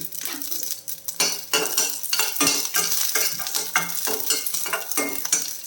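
Garlic cloves, dried red chillies and a little tamarind fried in a hot pan for a quick chutney, with loud crackling sizzle and repeated clattering of a metal spoon stirring against the pan throughout.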